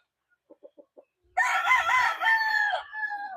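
A few soft clucks, then a rooster lets out a loud, long crow close by in a backyard, its call rising and trailing off.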